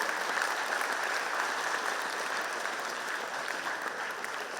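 Sustained audience clapping at a school annual day ceremony, a thick, even wash of many hands beating steadily without a break, fairly loud and close.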